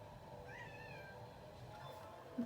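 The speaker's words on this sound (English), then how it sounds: "It's kind of scaring my kitty" A pet cat gives a single drawn-out meow at moderate distance in a quiet room, followed by a brief faint sound at the end.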